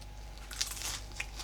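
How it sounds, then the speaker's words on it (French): A crunchy vegan rice paper roll is bitten, giving a few faint crisp crackles and crunches close to the mic over a low steady hum, with no talk. "le côté très croustillant à l'extérieur que vous pouvez même entendre, je pense, pendant la dégustation"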